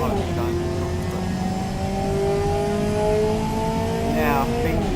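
Front-wheel-drive sporty car engine in the racing game Automation revving up, rising smoothly in pitch with a loud, steady drone and a brief higher surge near the end.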